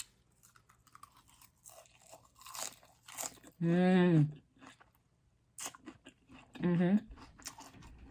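Crunchy bites of spaghetti eaten up close, a few sharp crunching bursts scattered through the clip, with loud hummed 'mm' sounds of enjoyment between them.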